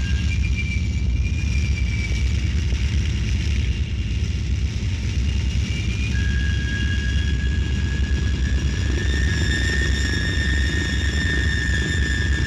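An aircraft taking off from Orly airport, a loud, continuous engine roar with a steady high whine that holds and rises as power builds.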